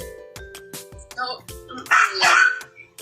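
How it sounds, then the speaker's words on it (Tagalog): A dog barks in several short, loud bursts that swell near the end, with people talking around it indoors. "Ang ingay naman ng aso mo"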